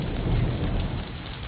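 Close thunder from a nearby lightning strike across the street during a storm, a loud sustained low rumble with steady rain noise throughout, no voices.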